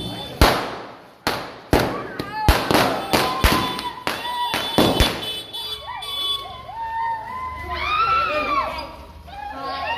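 Firecrackers burst outdoors near a temple haveli during Annakut festivities: a rapid series of sharp, loud bangs in the first half, then whistling, warbling shells. Crowd noise and voices sound underneath.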